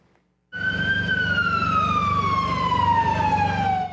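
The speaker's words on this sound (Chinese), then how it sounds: "救护车甲消防车的声音，再加上围观民众的吵闹声" An emergency vehicle siren wails at the scene of an Israeli airstrike in central Beirut. It is one loud, close, continuous tone that drifts slowly downward in pitch and plays alone without talk.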